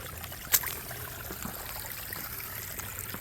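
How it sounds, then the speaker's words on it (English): Water flowing over a pond dam in Central Texas, a soft continuous trickle and gurgle at moderate distance, with one brief sharp click near the start and no talking. "so here's the water flowing over."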